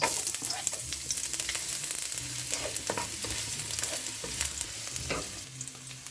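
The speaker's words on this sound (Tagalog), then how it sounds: "Una, igisa muna natin ang sibuyas." Onions sautéing in a pan as the start of a simple vegetable dish: a steady, fairly close sizzle with scattered crackles and occasional stirring scrapes throughout.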